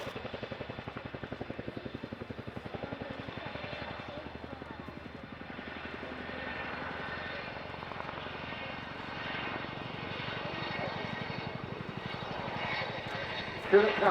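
An RAF Boeing Chinook twin-rotor helicopter flies a role demonstration at the Duxford Summer Airshow, its steady engine drone and rotor chop heard at a distance, fairly faint and constant throughout.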